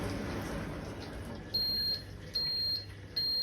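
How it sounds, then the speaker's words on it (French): Sammic X100 hood-type commercial dishwasher signaling cycle end with three evenly spaced, high-pitched electronic beeps, each lasting under half a second, over a low background hum. "vous attendez la fin du cycle avec un bip sonore et clignotant."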